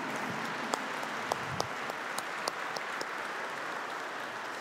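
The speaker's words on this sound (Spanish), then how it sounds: "Le regalamos un aplauso a la Virgen." A crowd at a Catholic Mass applauds steadily throughout, dense clapping at an even level with a few sharper individual claps standing out.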